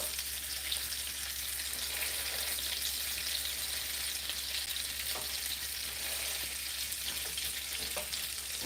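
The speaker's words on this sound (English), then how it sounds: "I just continuously flip my turkey burgers so that they don't like dry out on one side or be undercooked on the other" Turkey burgers frying in a pan on a home kitchen stove make a dense, continuous sizzle and crackle heard up close, steady throughout with no one talking.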